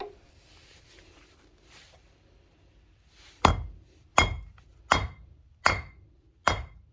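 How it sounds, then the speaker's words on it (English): A hammer strikes a piece of cold reclaimed copper on an anvil five times at an even pace, each blow a sharp, ringing metallic clang that decays quickly, after a few quiet seconds of light handling. "The next step is to start flattening it on the anvil."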